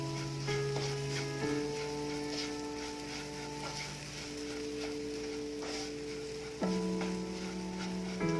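Bhendi potato fry being stirred with roasted peanut powder, a soft continuous frying sizzle with light scraping of the stirring, set under steady background music.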